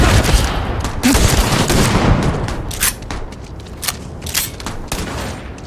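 Dense gunfire from a Starfield combat encounter, with overlapping bursts and a sustained fusillade of shots that is loudest in the first seconds and then thins into scattered volleys.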